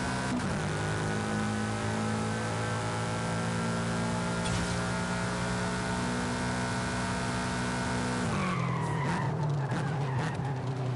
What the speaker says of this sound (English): Mate, this engine just growls at you, Jesus. That is such a loud engine.